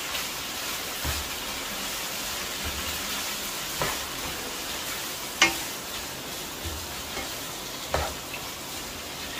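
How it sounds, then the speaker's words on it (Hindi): Vegetables and chicken chow mein with sauce frying and being mixed in a pan: a continuous close sizzle with occasional scraping stir strokes and small clinks, no speech. "इसको अच्छी तरह मिक्स करूंगा"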